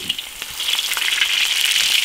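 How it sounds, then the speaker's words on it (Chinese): Pork ribs and sausage sizzle in hot oil in an iron wok, a steady bright crackling fry with small pops running throughout, loud and close with no voices. "把它四面都煎金黄"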